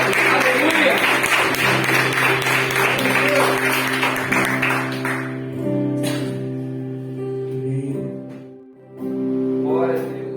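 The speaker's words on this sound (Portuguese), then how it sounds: "Comece aplaudindo ao nome do Senhor." A church congregation claps rhythmically during worship over sustained music and singing for about five seconds, then the clapping fades while the musical tones continue and a voice is heard near the end.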